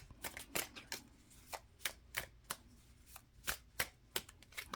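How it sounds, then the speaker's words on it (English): Tarot cards being shuffled by hand in a quick series of crisp riffles and taps, close and quiet, with no talking. "3 more shuffles."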